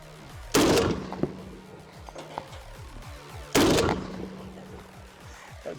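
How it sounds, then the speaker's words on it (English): A .50 caliber AK rifle fired from atop a Soviet T-34 tank: two loud, booming single shots about three seconds apart, each with a long rolling echo, outdoors with no talking. "first 50 caliber AK on top of a Soviet T-34"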